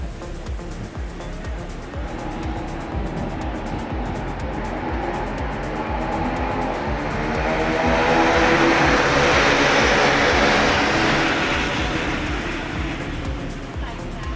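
KTM Cup racing motorcycles at the start of a pro-category track race roar steadily and loudly as a pack, building to a dense rising engine swell midway before easing slightly.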